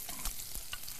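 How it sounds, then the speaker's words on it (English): Garlic, ginger and vegetables sizzle and crackle in an oiled wok as they are stirred, a close, steady frying hiss with a few scraping stir sounds and no talking. "This is what you call stir fry."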